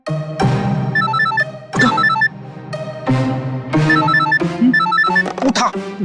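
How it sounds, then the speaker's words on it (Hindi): A telephone rings in repeated bursts, its electronic tones returning in several regular cycles with short gaps, fairly close and clear, with scattered brief sounds between rings. "उठा जल्दी से फोन उठा उठा।"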